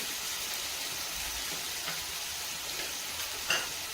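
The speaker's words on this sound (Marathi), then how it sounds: "टोमॅटो जास्त आपल्याला परतून नाही घ्यायचं" Soft, steady sizzle of tomatoes sautéing in a pan for a dry spinach (sukhi palak) dish, a constant hiss with a faint stirring scrape near the end and no talking.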